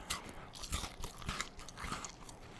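Close, crunchy chewing of food, with repeated bites and mastication sounds in an irregular rhythm, loud and alone without speech.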